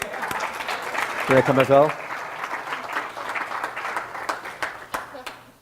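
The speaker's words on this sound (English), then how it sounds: "Oh, give her a round of applause" A seminar audience breaks into a short round of applause, moderate and somewhat distant, with a voice talking over it and a brief tonal musical sting in the middle.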